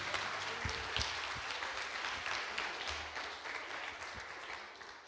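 Church congregation applauding during a worship service, a steady wash of many hands clapping together for several seconds at moderate distance, with no voices rising above it.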